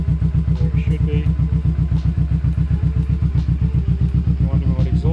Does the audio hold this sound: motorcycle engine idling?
yes